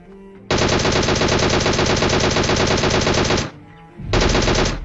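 Automatic rifle fire in PUBG Mobile, a loud, rapid sustained burst of about three seconds, a short pause, then another burst starting, with no talking.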